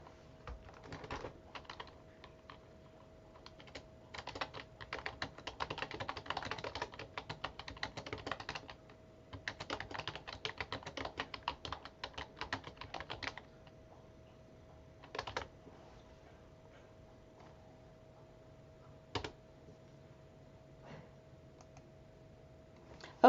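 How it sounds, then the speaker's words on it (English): Quiz question being typed on a computer keyboard: bursts of rapid, close key clicks in irregular runs with pauses between, plus a few isolated keystrokes, over a steady low hum and no talking. "I'm gonna type it out so you can see it."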